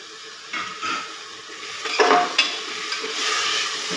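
Soaked toor dal being stirred in a pot on a raised flame, soft wet scrapes and a faint hiss with a few sharper knocks against the pot, close and moderate in level.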